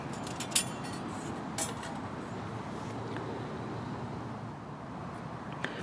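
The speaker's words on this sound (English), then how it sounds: "So you just slip it in to the slots like that and it locks right in" A metal trivet slotted into a bushcraft camp stove, giving two sharp metallic clinks close by, then faint scraping over a quiet background with a soft tap near the end.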